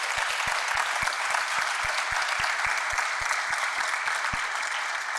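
An audience at a JFS annual community event applauds the agency's staff with steady, sustained clapping that fills the room, while occasional low thumps sound underneath.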